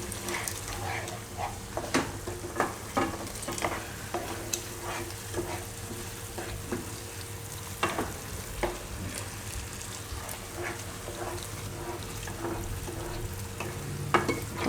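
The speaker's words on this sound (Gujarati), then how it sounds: "તો આમાં આપણે આ રીતે નાખતા જાઓ અને મિક્સ કરતા જાઓ." Hot milk being poured into sizzling mung dal halwa in a pan and stirred in, with soft frying hiss, scraping spoon strokes and occasional clinks against the pan in a home kitchen.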